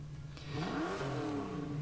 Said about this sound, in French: On a bien sûr le son enregistré du moteur.